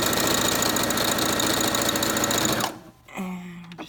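A sewing machine stitches a patio cushion with a fast, steady, loud mechanical whir and rattle that runs for over two seconds, then stops, followed by a brief quieter run or reverse stitch.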